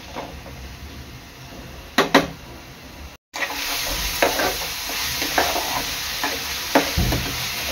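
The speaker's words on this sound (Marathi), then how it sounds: "आपली आलं लसूणची पेस्ट कांद्यामध्ये चांगली शिजवून घ्यायची आहे।" Chopped onion and ginger garlic paste sizzle in a hot pan while a spoon stirs and scrapes through them, with a steady frying hiss, sharp metallic scrapes and knocks, close up, and no talking.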